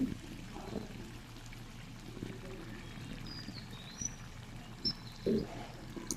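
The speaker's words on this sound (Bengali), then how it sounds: "তখন আমার ঝোলটা ফুটে উঠেছে একদম" Soybean curry gravy bubbles at a boil in a pan with a low, steady burbling and a few louder pops near the end.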